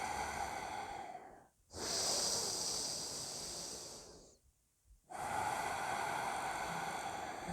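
Slow, deep breaths in and out during a central channel breathing exercise: two long airy hisses, each lasting a few seconds, separated by short silent gaps, close and clear.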